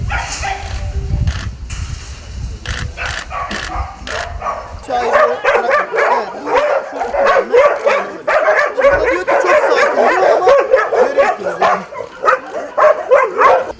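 Dogs bark, yip and whimper over and over at a municipal animal shelter in Karşıyaka, the barking dense and close, with people talking beneath it.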